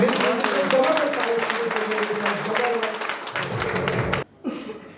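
Audience applause at a blockchain community anniversary event, loud crowd clapping mixed with cheering and voices, which cuts off abruptly near the end before a brief quieter tail.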